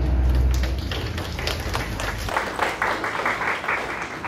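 An audience at a biofertilizer symposium applauds a speaker, producing a dense, sustained wash of clapping from a full room that continues steadily, with a low thump early on.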